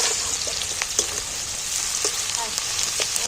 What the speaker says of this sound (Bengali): বাকি তেলের মধ্যে এই ছোটো ছোটো করে পেঁয়াজ কাটাগুলো দিয়ে দিই পেঁয়াজটা তেলের মধ্যে নেড়ে নেবো